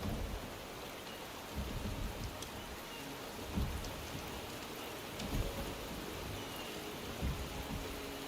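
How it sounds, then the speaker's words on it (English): Steady rainfall in Wuthering Waves hisses throughout, with soft low rumbles of thunder swelling every couple of seconds in the distance. "The rain is subsiding."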